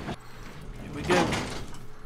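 In the video game Fallout 3, a door opens with a short mechanical whoosh and clunk that is moderately loud, with a voice talking over the game audio.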